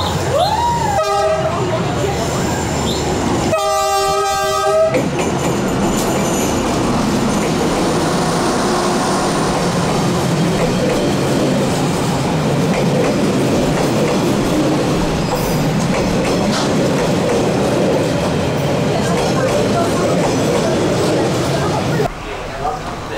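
A train rumbles past on the tracks with a steady, loud roar and clatter, a horn-like tone sounding briefly near the start.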